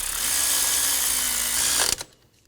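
A 14mm socket on a power driver snugs down the idler pulley bolt on a 2019-2025 Ram 2500 with the 6.7L inline-six, a loud, steady close-up whir for about two seconds that then cuts off abruptly.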